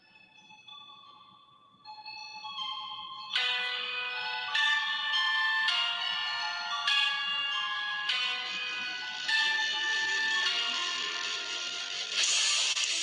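An excerpt of a song, opening with sparse melodic notes before fuller layered instrumentation builds in stepped chords, steady and moderately loud throughout.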